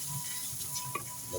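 Pigeon meat sizzles faintly in a pan, with soft stirring scrapes and clinks over the quiet hiss.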